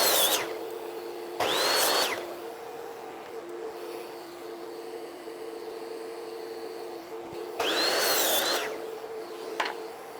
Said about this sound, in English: Let's get into cutting down some of these studs.